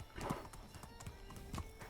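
Horse hooves clip-clop in a steady gait while riding in the medieval survival game Medieval Dynasty, with a brief neigh near the start; moderately close and alone, with a faint game ambience behind.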